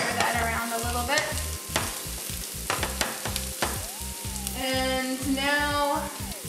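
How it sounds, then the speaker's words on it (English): Garlic and carrots sizzle in a hot pan while being stirred, a steady close frying hiss broken by the scrape and clatter of a utensil moving through the vegetables. "we will add the garlic to the pan here. Stir that around a little bit."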